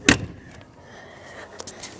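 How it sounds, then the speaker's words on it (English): An RV trailer door swings shut with a single sharp slam at the start, followed by a faint rattle and a couple of small clicks over quiet background. "close the door."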